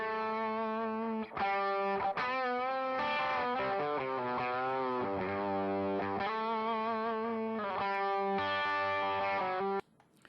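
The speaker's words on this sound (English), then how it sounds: "So this is the lead guitar in its dry recording." A dry lead guitar recording plays a melodic line of sustained, singing notes with a few quick changes, loud and alone, then cuts off abruptly near the end.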